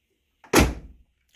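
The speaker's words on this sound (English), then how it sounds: "Shut the door." A single solid thunk of a 1989 Lincoln Town Car Signature Series door shutting, short and muffled, with silence before and after.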